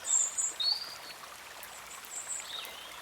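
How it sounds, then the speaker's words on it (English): Faint birdsong drifts from a distance in a few thin, high chirps and whistles over a soft, steady wash of flowing stream. "Birds sing softly in the distance"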